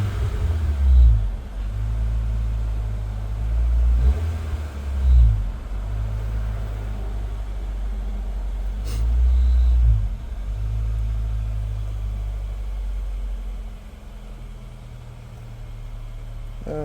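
A 2010 Honda Fit GE8 with an HKS exhaust sits idling with a steady low burble, and a few short revs rise and fall over the rumble.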